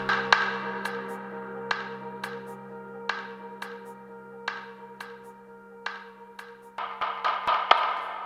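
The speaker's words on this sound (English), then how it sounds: "the snare sound for now." Elektron drum machine snare sample with ping pong delay, a steady series of sharp hits each trailed by echoing repeats over a low sustained tone, thickening toward the end, no voices.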